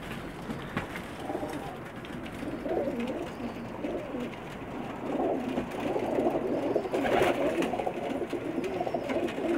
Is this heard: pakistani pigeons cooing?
yes